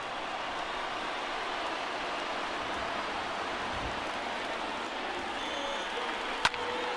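In the MLB The Show 20 baseball video game, a stadium crowd of over 37,000 roars steadily, a broad, even wash of cheering heard at a distance that holds throughout, with one brief sharp crack near the end.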